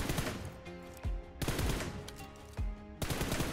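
Shots ring out in a PUBG Mobile training drill, several bursts of gunfire with short pauses between them as the aim shifts from one target to the next, loud and close with no voice over them.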